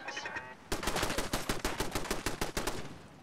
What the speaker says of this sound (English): Nope, it's a turret.